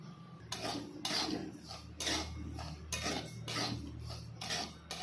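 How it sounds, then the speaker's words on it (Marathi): Barnyard millet (bhagar) being dry-roasted in a kadhai, with a spoon scraping and clinking against the metal in repeated strokes, the grains rustling between them. Close and fairly steady, with no talking. "इथे कढईत आहे ना आपण भगर भाजून घेऊया।"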